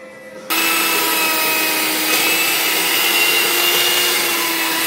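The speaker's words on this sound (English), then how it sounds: "next we're gonna use the hand mixer to grind the butter and the sugar" Electric hand mixer creaming butter and sugar for oatmeal chocolate chip cookie dough, starting abruptly and running as a loud, steady, close motor whine with no talking.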